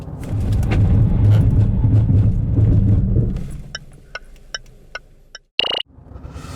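A Land Rover Discovery Sport SUV on a braking test roars loudly as it approaches, then the engine noise fades out into quiet broken by a few short clicks and a brief sharp burst.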